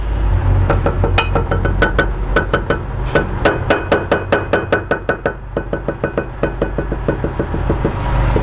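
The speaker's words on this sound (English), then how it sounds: "So hammer it together." Metal pieces being hammered together in a hands-on instructional workshop, a long run of loud, close, rhythmic hammer blows that speed into quick regular strikes, over a steady low background hum.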